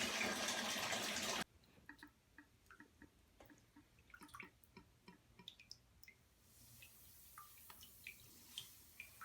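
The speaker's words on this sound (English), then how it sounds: "while the bathtub fills up" A bathtub fills from the tap: a loud rush of running water for the first second and a half, then scattered drips and small splashes ticking irregularly into the filling tub.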